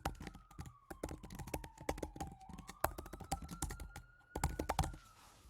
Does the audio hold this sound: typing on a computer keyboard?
yes